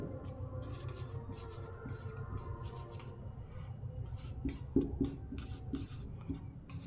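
Pen or pencil scratching on paper during a spoken English lesson, a steady run of short strokes in rhythmic bursts, close and moderately quiet, with no talk over it.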